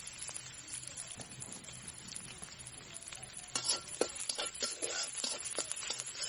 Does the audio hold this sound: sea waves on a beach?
no